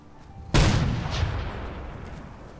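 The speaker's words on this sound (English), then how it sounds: "Who is shooting?" A sudden loud gunshot boom in the Fallout 4 video game cracks out after a quiet moment, then rolls into a long fading echo.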